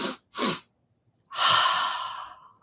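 Breathing during a guided meditation, in through the nose: two short quick breaths, then a longer, softer drawn-out breath, quiet and close, with no talking.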